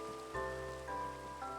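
Steady rain falls in the Minecraft video game, a soft continuous patter heard faintly alone under quiet background music tones.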